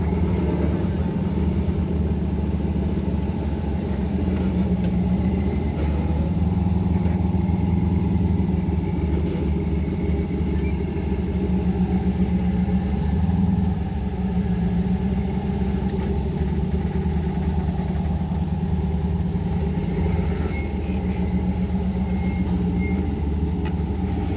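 An off-road vehicle engine rumbles steadily at low revs while backing up slowly on a wooded trail, a loud, close, continuous idle-like drone with slight surges.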